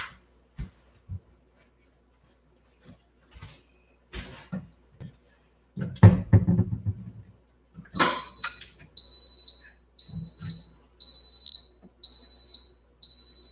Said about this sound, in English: that beep means our rice is just about done.